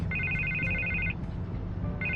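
A phone in a Batman video game rings with a bright electronic trill, one burst of about a second, a short pause, then the next ring begins, over a low steady game ambience.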